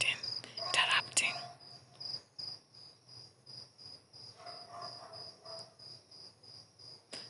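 Insect chirring from outdoors, likely crickets, a faint steady high trill that carries on throughout, with a brief louder burst of noise near the start and low background hum.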